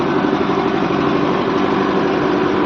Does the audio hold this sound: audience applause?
no